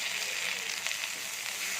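Paarai fish fries in hot oil in a pan, a steady close bright sizzle with small crackling pops and no talking.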